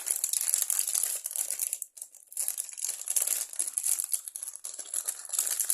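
Plastic packaging crinkles and tears as it is cut open with scissors and unwrapped, a close, continuous crackly rustle with a brief pause partway through.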